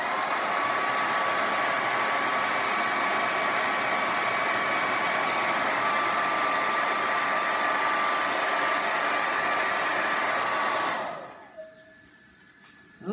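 Hair dryer blowing close and loud on a chalkboard, a steady whooshing hum for about eleven seconds before clicking off into near silence.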